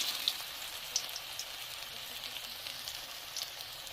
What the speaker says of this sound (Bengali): এবার আমি এক এক করে পকোড়াগুলো ছেড়ে দেব।